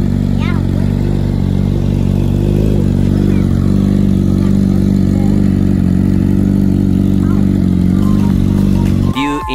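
Motorcycle engine running steadily and loud throughout, with a low rumbling drone and slight rev variations, while people talk over it; it cuts off abruptly near the end.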